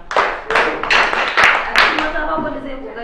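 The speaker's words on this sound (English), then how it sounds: "Good. Clap for her" Pupils in a school classroom from a Hausa film applaud a girl, several sharp claps ringing out in quick bursts, close and loud, then trailing off into faint voices.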